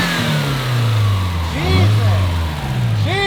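A Subaru STI engine is revved in short bursts toward about 5,000 rpm. The close engine note rises and falls through several quick climbs over a low idle drone.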